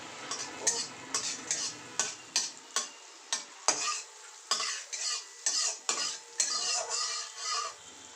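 Bread sizzles gently in butter in a kadai while a utensil stirs and taps against it in a steady, repeated rhythm, close up with no talking.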